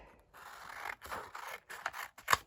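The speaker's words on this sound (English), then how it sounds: "I'm just using the scissors for the minute, just to get that right edge" Scissors cutting paper while trimming an edge for a junk journal page: several close, crisp snipping and slicing strokes in an uneven rhythm, heard alone without talk.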